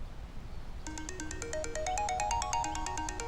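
A melodic electronic phone ringtone starts about a second in and keeps cycling through bright repeating notes, clear and fairly close, over a low background hum.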